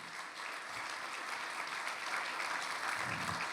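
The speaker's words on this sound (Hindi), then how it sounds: "Give the Lord a hand clap." A congregation at a Sunday sermon claps their hands in praise, dense and sustained clapping throughout with a few low thumps underneath and no talking.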